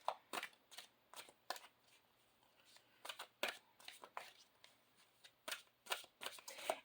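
A moon oracle card deck being shuffled in repeated quick riffling bursts, close and fairly quiet, with short pauses between the shuffles.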